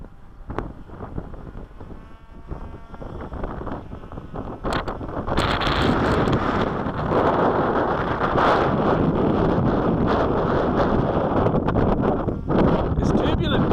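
Strong winter wind buffets the microphone in a loud, continuous roar that builds and stays heavy, while foam model planes are flown outdoors and a voice is heard briefly near the start.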